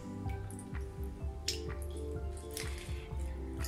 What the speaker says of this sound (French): on n'a plus qu'à venir tremper notre savon dans l'eau chaude